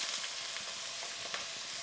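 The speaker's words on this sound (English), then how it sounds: "I've heated my oil, so I'm going to add the onions" Chopped onions hit heated oil in a pan for a Goan fish curry, giving a steady, close, broadband sizzle with a few soft stirring clicks throughout.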